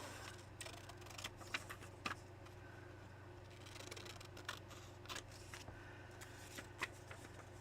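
Scissors trimming paper for an art journal page: a scattering of faint, crisp snips and paper rustles over a steady low electrical hum, with no talking.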